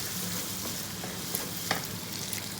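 Lamb keema with capsicum sizzles in a handi as it is stirred, a constant frying hiss with a few soft scraping clicks, close by.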